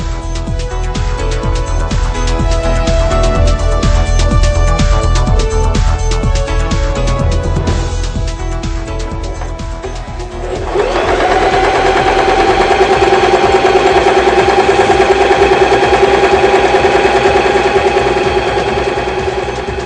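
A Janome 2012 sewing machine stitches steadily and loudly for the whole span, its needle clatter shifting partway through as the stitch length setting is raised step by step.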